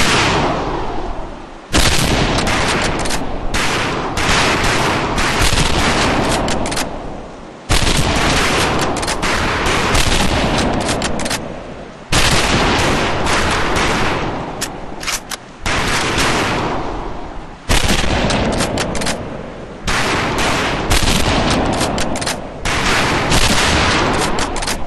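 Dense rifle fire at a shooting range in the video game Medal of Honor: Pacific Assault, with overlapping loud shots and rapid bursts rolling almost continuously across the whole stretch, broken by a few very short lulls.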